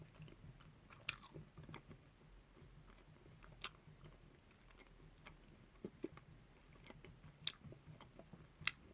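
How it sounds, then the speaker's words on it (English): Cola-flavoured Chewits chewy sweets being chewed up close, with soft, irregular sticky clicks and small crunches spread over a quiet background and no talking. "Still chewing through the cola one."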